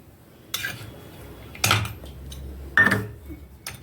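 A spoon scraping and clinking against a bowl while mixing a milk cream face pack: three distinct knocks spaced about a second apart, with soft scraping between them, close and fairly loud.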